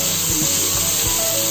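Steak sizzles in a hot pan as melted butter is poured over it, a loud steady hiss with crackling spits up close and no voices.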